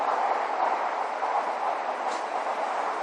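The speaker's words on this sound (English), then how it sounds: "Train's coming." Train rolling past at close range, a steady, loud, broadband rumble and roar that holds evenly for the whole stretch, with a faint squeal rising briefly near the end and no voices.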